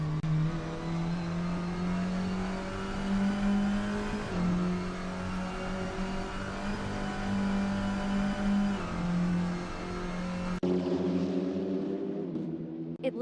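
A race car engine drones steadily at high revs through the Bilstein Curve in a touring car series on a racing video game, with a sustained tone that drops away abruptly near the end.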